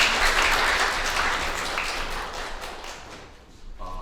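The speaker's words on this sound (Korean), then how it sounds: "좋은 말씀 해주신 우리 교육시청장님께 다시 한번 큰 박수로" Audience applause fills a university innovation forum hall, a dense steady wash of clapping that starts loud and slowly thins out over about four seconds.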